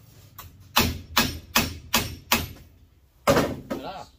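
A hammer strikes a bent power chisel blade tip to straighten it, with six loud, sharp metallic blows in a steady rhythm after a couple of faint taps, then a pause before a final hit, close and clear.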